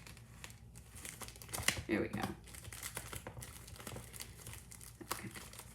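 Packaging is cut open with scissors, a crinkly rustle with a few sharp snips and tearing sounds, under a person talking.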